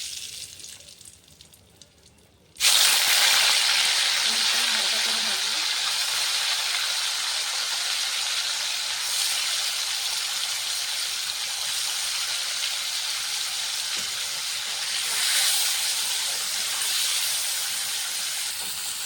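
Paneer frying in ghee in a wok: after a quiet start, a loud sudden hiss erupts and holds as a steady, close sizzle for the rest of the time, with no talking.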